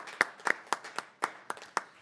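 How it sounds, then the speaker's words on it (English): Sparse clapping at a city council meeting, about eight separate claps in an irregular rhythm, fairly faint and close, with no talking over them. "let's give them a round of applause."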